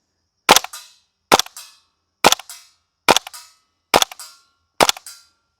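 WE L85 gas blowback airsoft rifle firing six evenly spaced shots, each a sharp close ka-chunk crack of the bolt cycling with a short metallic tail, with no voices between them.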